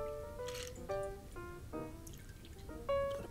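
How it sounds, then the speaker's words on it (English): Whisky and Midori liqueur cocktail poured slowly through a julep strainer gives a soft, close trickle with gentle glassy ringing and clinks that rise and fall in short bursts. "Now, what we're going to do is just slowly strain that in."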